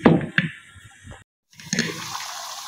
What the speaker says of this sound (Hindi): पानी डालूँगी मैं इसमें 1 गिलास